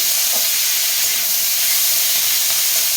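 Egg chow mein being stirred and fried, a constant loud sizzle with faint scraping of the utensil through the noodles, close and uninterrupted, no speech.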